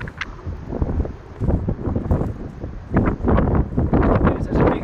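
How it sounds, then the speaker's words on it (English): Gusty wind at Duxford Imperial War Museum in January buffets the microphone in loud, uneven roars, growing stronger toward the end, with faint rustling underneath. "it's really windy"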